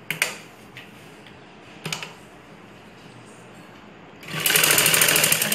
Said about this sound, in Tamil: ரெண்டு ரெண்டு தையல் போட்டால் ஸ்ட்ராங்காக இருக்கும்.